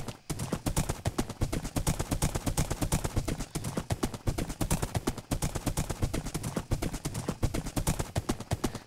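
Horse hooves clip-clopping in a survival video game, a fast steady galloping rhythm of close, distinct hoof strikes running throughout.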